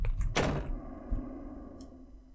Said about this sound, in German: The door's locked.